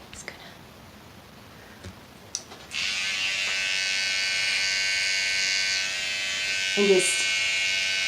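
Electric trimmer buzzing steadily while lightly trimming hairs along the beard line of a big beard at home, a close, continuous whine that starts after a quiet moment, with brief soft speech.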